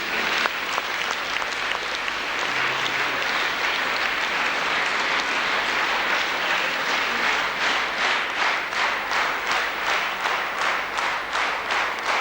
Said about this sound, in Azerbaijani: Buyurun, alqışlayın.